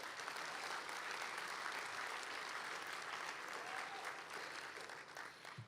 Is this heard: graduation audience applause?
yes